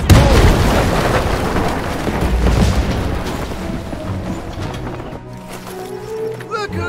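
Artillery direct fire explosions in the World War II strategy game Men of War II, a loud opening boom and rumbling blasts that slowly fade under continuous battle noise, with voices speaking over the din.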